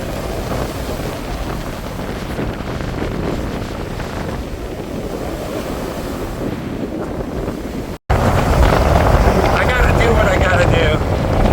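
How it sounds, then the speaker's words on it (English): Wind gusts hard outdoors on a cold day near the water in Germany or Denmark, roaring and buffeting the microphone without letup, cutting off briefly before returning louder and rougher. "It's windy."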